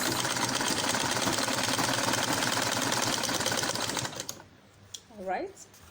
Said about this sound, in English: as you're sewing, you're pulling it